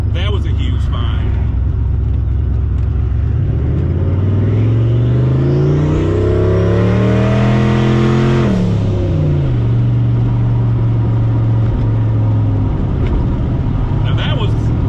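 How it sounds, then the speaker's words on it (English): Turbocharged Ford Mustang with a mass airflow sensor leak, engine pulled briefly at wide open throttle, a loud close rising roar that sweeps up in pitch, breaks at the shift, then settles into a steady lower drone. "Now that was a brief wide open throttle hit."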